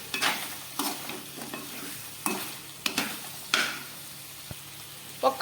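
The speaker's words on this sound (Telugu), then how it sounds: "కొద్దిగా కొత్తిమీర యాడ్ చేసుకొని మరొకసారి బాగా కలుపుకోవాలి" Mutton fry is stirred in a pan with spices, coriander and kasuri methi, giving a run of scraping, clattering stirs over a soft, steady sizzle, with no talking.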